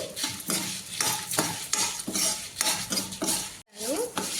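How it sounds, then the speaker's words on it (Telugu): Dry red chillies and coriander seeds roasting lightly in a teaspoon of oil, stirred with a spoon in a pan, making rhythmic rattling scrapes against the metal with a faint sizzle, close and without speech. "ఫస్ట్ ఎండుమిరపకాయలు, ధనియాలు అనేవి కొంచెం లైట్గా అయితే వేయించుకోవాలి."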